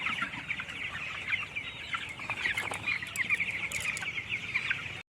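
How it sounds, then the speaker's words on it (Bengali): Many chickens on a poultry farm cluck continuously while feeding, a dense, busy chorus of overlapping calls at moderate distance that cuts off abruptly. "মুরগিগুলো খাচ্ছে। দেখো কত মুরগি,"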